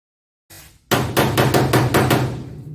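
Sharp metallic picking-hammer taps on old Ford Econoline van sheet metal, about seven strikes in a steady rhythm, close and loud with ringing overtones.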